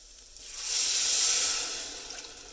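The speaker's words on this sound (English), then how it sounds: "Let it sizzle." Chicken stock hits a hot pan of bacon and garlic rice, giving a sudden close sizzling hiss that swells for about a second and then fades slowly.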